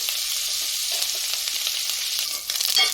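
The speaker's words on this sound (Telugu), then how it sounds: "ఇప్పుడైతే కరివేపాకు మొత్తం ఫ్రై అయిపోయిందండి" Curry leaves crackle and sizzle in hot oil, a dense steady hiss of frying that runs throughout, with a few brief sharper pops near the end.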